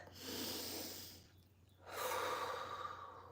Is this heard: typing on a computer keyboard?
no